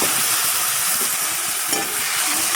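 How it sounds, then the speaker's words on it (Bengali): Potatoes and tomatoes fry with onion, salt and turmeric in a pan, making a loud, dense, continuous sizzle close up with faint stirring bumps throughout. "আলু টমেটোটা নুন হলুদের পেঁয়াজের সাথে ভালো করে ভেজে নেব"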